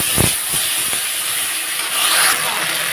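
Water poured into a hot pan of turmeric and salt gives a loud, continuous hiss of sizzling steam, with a few soft clinks near the start.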